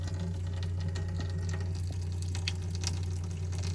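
Water running from a Roadtrek camper van's sink tap, fed by the pump from its fresh water tank, a faint steady flow with splashy bursts over a constant low pump hum.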